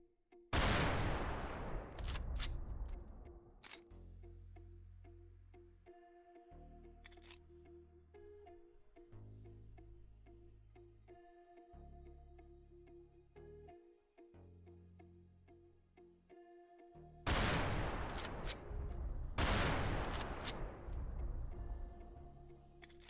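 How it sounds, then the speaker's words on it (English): Bursts of rapid gunfire from the Roblox game After the Flash crackle loudly in two clusters at the start and near the end, separated by single sharp shots over a low, droning in-game music bed. "as you can hear from that gunshot sound"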